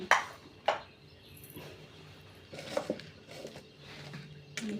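Hot cooked dal ground by hand on a stone makes scattered scraping and knocking sounds, with a few sharp clicks over a quiet background. The strokes are close and uneven.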